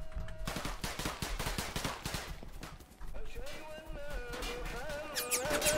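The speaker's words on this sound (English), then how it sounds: "we're under fire all over the place, dude" Dense gunfire in the Roblox game Syria Simulator, rapid overlapping bursts of shots throughout, mixed with excited talk and tonal game sounds in the background.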